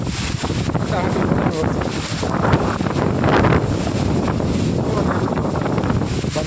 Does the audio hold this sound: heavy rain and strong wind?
yes